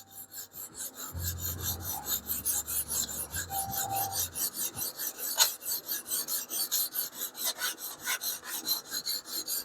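Hand sharpening of a knife edge on a guided stone system, with steady rhythmic rasping strokes close by and a brief low hum early on, no talk.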